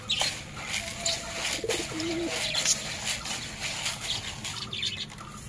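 Pigeons coo softly in a low, repeated murmur among a flock, with faint chirps and steady background noise running throughout.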